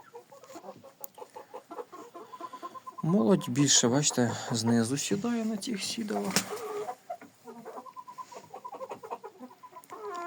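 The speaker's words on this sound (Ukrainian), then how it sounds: "сокорять прям, вже як не як не курча, як курка" Young chickens, nearly grown, cluck like adult hens while settling onto roosts, a busy layered chorus close by, with someone talking over it.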